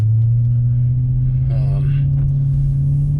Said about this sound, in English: when I first started up, it runs kind of rough